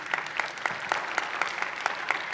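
An audience at a Korean church youth service claps to welcome a speaker to the stage, steady applause with sharp individual claps standing out at a moderate distance, no voices over it.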